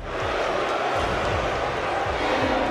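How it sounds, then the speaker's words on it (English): A dense arena crowd at a professional wrestling event boos a wrestler, producing a loud, sustained wash of jeering voices that fills the whole moment without a break. "Keep booing me all night"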